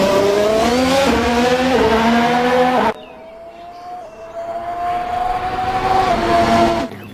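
A toy Formula One race car sound effect plays a loud, whining engine tone that rises and shifts in pitch, stops abruptly partway through, then resumes slightly softer and builds again with no talking.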